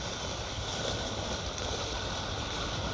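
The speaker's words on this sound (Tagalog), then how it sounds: "Malaki lang po ang alon guys pagka may dumadaan ng" Waves churned up by large passing boats wash steadily along a shoreline on a coastal walk near Cape Collinson toward Big Wave Beach, a continuous broad rushing wash with wind mixed in, no talk.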